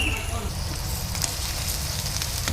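Chopped onions fry with prawns in hot oil, giving a steady loud sizzle and crackle that carries through the short stretch without pause.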